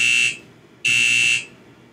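Fire alarm sounding from a modded alarm panel in Minecraft: two loud, shrill electronic tone bursts, each about a third to half a second long, separated by a brief gap, with no talking.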